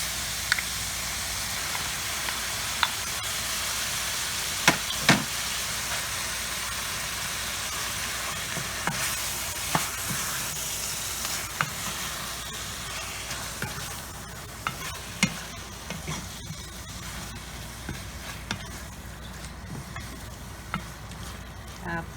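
Mung beans stirred and frying in a pan for a mung bean stew with chayote and malunggay: a steady sizzle and hiss throughout, with scattered sharp scrapes and clicks of stirring, fairly close.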